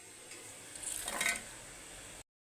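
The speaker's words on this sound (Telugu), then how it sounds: "అవి ఆలు వేగుతూ ఉంది." Potatoes frying in hot oil give a soft, steady sizzle with a brief louder swell in the middle, fairly quiet and close, with no voices.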